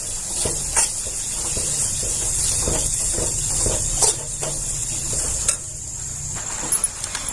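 Roughly a cup of peanuts roasting in a pan on the stove while someone stirs them, giving off a steady hiss with scattered light scraping and stirring clicks. Nobody speaks.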